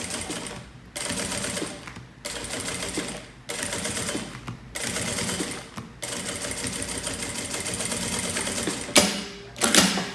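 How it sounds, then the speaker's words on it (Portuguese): A straight-stitch sewing machine stitches a wallet in loud, steady runs of a few seconds, broken by short pauses, with no talking. "eu vou costurar aqui, ó, aonde tá o meu botão, aqui da parte principal"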